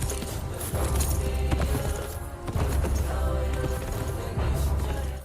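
Coconut shells clop together to imitate galloping horse hoofbeats for a Bollywood film scene, a fast, dense run of hollow knocks layered in a busy mix that pauses briefly midway before resuming.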